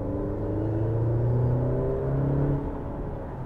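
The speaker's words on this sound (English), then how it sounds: "You can also hear just the slightest little bit of motor whine when it's assisting the engine" A 2024 Maserati Grecale hybrid SUV accelerating, its engine note climbing steadily in pitch over a low rumble, heard from inside the cabin, before easing off near the end.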